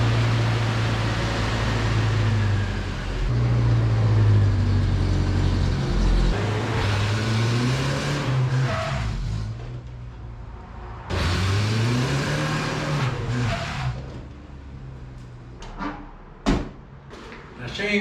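Wrecked Chevy Spark with fresh spark plugs and plug wires, its small engine running rough and revving up and down in several swells, with a door slam and clunks near the end.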